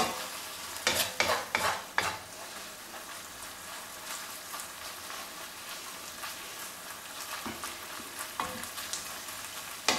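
Beef mince for bolognese, with an oxo cube crumbled in, sizzles steadily in a pan while a utensil scrapes and stirs it, with a few sharp clatters near the start and later.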